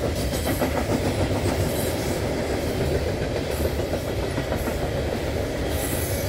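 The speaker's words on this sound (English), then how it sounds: "It looks like we got coke or coal in this train going by." A freight train loaded with coke or coal rolls past in Ohio, a loud continuous rumble with rhythmic clickety-clack of wheels over rail joints and wind noise, close by throughout.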